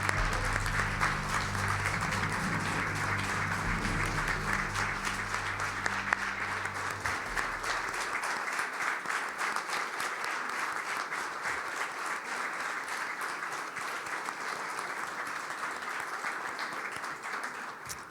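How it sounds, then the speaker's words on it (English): A crowd at a Veterans Day ceremony applauds for veterans, sustained dense clapping that continues evenly for the whole stretch, with a low background hum fading out early on. "please give a hearty round of applause for our veterans"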